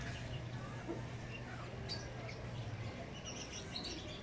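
Small birds chirp and tweet intermittently at a distance over a steady low hum of background noise.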